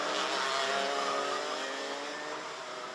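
Junior racing karts lapping the Genk circuit during a Euro Trophy heat, a steady high-pitched engine drone that slowly fades as the karts pull away, with no voices over it.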